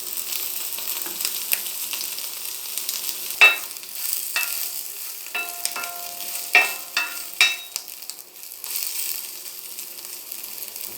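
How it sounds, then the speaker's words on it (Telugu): Soya chunks frying in oil in a pan, a steady close sizzle with occasional sharp pops and crackles scattered through, no voices. "ఇలా ఫ్రై అవుతున్నంతసేపు మనం కొంచెం కొంచెంగా నూనె యాడ్ చేసుకోవటమేనండి."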